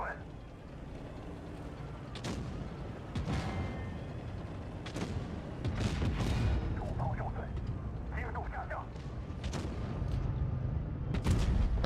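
Tank cannons fire in the mobile video game World of Tanks Blitz, a series of sharp booming shots at irregular intervals over rumbling battle noise, with someone speaking over it.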